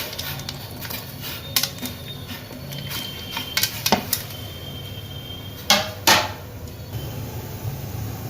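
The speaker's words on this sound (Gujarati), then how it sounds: "બધા બટેકા નાખી દઈએ છીએ આપણે।" Hard clatters and thuds of potato pieces dropping into a metal cooker in a few quick bursts, over a low background hiss, with no talking.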